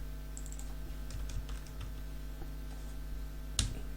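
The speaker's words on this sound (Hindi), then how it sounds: "यहाँ पे लिखते हैं सुनील" Typing on a computer keyboard while entering names into an HTML list, a run of close, crisp key clicks with a louder final keystroke, steady and alone over a faint electrical hum.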